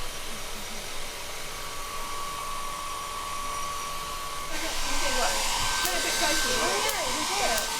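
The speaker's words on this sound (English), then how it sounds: "use a hairdryer which will dry out" A steady hair dryer blows with a constant whining hum during a physics electrostatics classroom demonstration, drying the air around a belt, growing a bit louder and harsher partway through; no talking.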